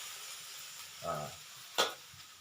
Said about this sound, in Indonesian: ini diaduk terus sampai agak layu